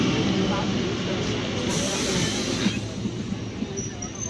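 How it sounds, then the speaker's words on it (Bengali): A train pulls into a station with a broad, steady rumble and hiss that stays loud for several seconds, then eases slightly. Faint clicks and knocks come through over the roar. "অ্যানাউন্স হয়ে গেছে, ট্রেন ঢুকবে"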